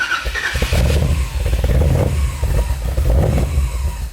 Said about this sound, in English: Give a little gas.